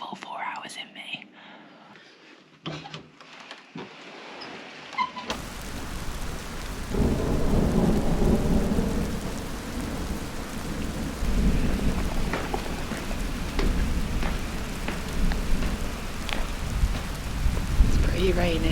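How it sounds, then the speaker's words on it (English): Heavy rain pours during a thunderstorm, with low thunder rumbling beneath a steady hiss of drops; a person whispers near the start before the downpour swells and continues loud. "it's due to be rain and thunderstorms until around midday"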